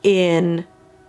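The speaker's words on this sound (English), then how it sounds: "that's the train horn." A loud, steady horn blast sounds once for about half a second, dipping slightly in pitch before cutting off into a fading echo.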